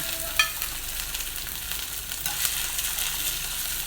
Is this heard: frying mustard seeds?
yes